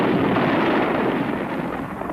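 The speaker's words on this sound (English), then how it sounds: "It opens, of course, with fireworks and John F. Kennedy in Palm Beach pressing a golden key" Fireworks at a 1962 event, from period newsreel footage: a dense, continuous rumbling crackle of bursts, loud and steady, tapering slightly toward the end.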